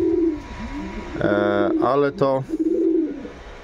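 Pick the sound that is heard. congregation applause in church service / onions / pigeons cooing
pigeons cooing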